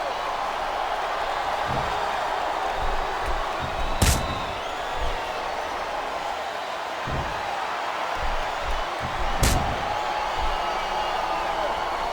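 Crowd at a WWE wrestling arena (Unforgiven 2006, Carlito vs. Randy Orton) keeps up a constant roar, with a couple of sharp slam-like impacts ringing out over the cheering.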